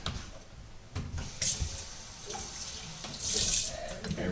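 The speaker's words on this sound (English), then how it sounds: "I'm going to tip the juice off into the sink." Juice from a can pours off into a kitchen sink while making pasta salad, a steady splashing, running-water sound that swells louder toward the end.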